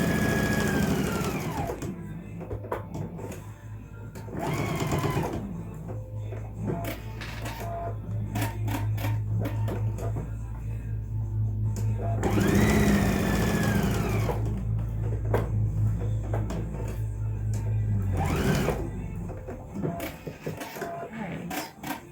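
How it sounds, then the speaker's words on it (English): A sewing machine runs in bursts as it stitches around the edge of a fitted fabric face mask. The close motor hum rises and stops several times, with handling noises in between and no speech over it. "I'm going to sew around this edge here"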